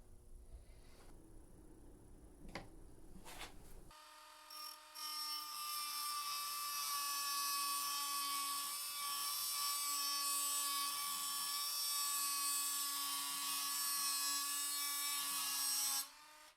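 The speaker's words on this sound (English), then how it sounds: "The same Dremel tool and cutoff wheel that was used to cut the blade also was used to make the new nail nick" A Dremel rotary tool with a cutoff wheel grinds a nail nick into a Bear and Son trapper knife blade. A few dull taps come first, then a loud, steady, high-pitched whine runs for about twelve seconds and stops abruptly.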